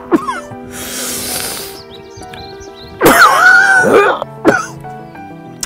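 A person demonstrates cough CPR, alternating breathing and coughing: a long breathy inhale, then harsh, forceful throat-clearing coughs in short bursts, close and loud, with no speech.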